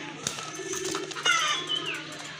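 A well-marked pigeon at a pigeon sale gives soft, low coos close by, mixed with light rustling and faint background sounds.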